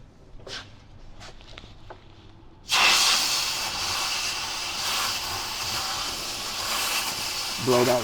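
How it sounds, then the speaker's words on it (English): Compressed air blasts around the oil filter area of a 6.7 Powerstroke diesel, a loud continuous hiss that starts abruptly after a few light knocks and holds steady for several seconds. "and it can even take some compressed air to that."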